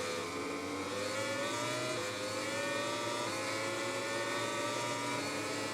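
A MotoGP racing bike engine in MotoGP 20 screams at high revs down a front straight, a steady loud whine climbing slowly in pitch, alone without talk.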